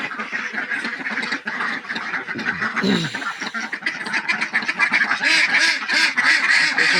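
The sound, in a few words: ducks quacking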